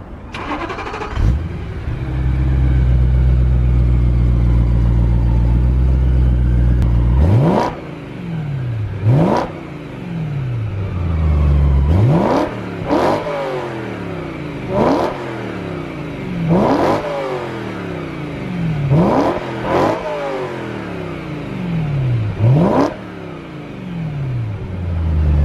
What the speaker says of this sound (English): I know you guys want to hear that V8 in action, so we'll turn it on and give you a few revs.